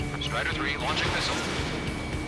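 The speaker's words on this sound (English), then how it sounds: "Strider 3, launching missile." Missile launch from a badly damaged Warthog jet in the Ace Combat 7 flight game, a dense roaring whoosh sustained over engine noise with radio chatter layered on top.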